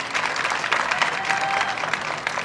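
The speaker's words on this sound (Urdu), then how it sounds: "کھل کے تالیاں بجا سکتے ہیں آپ لوگ" An audience at an Urdu literary conference claps in dense, even applause, loud and close, with no talk over it.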